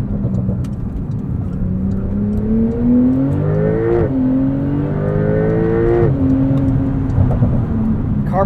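A 2021 Porsche 911 Turbo S under way, its engine note rising steadily through the gears with clear dips at each shift, loud and continuous from inside the car with no talking.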